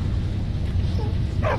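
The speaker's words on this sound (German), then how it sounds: "Zwei Hunde." Dogs barking in the video game Skyrim, a couple of short yips toward the end over a steady low game ambience.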